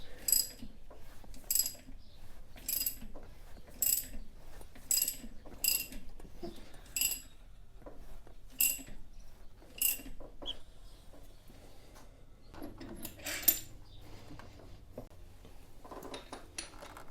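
A ratchet wrench tightens a bolt pulling in the crank and harmonic balancer during an SRT power steering pump upgrade, giving quiet, repeated bursts of sharp metallic clicks at an uneven pace, with pauses between strokes.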